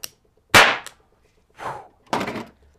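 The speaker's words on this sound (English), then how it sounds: "That was a very tiny volume of gas for a very loud bang" A small pocket of electrolysis hydrogen-oxygen gas trapped in soapy water ignites with a sharp, very loud bang. A short extra crack follows at once, then two more softer pops come about a second apart, all close with no talk.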